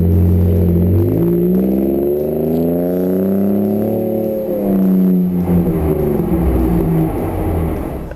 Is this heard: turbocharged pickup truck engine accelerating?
yes